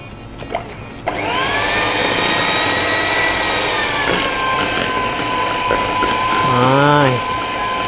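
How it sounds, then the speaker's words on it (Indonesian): Electric mixer whirring steadily through cheesecake batter for a Burnt Basque cheesecake, switching on after a brief clatter and holding a loud, close, even whine with a pitch wobble near the end. "Kita lanjut mixer lagi."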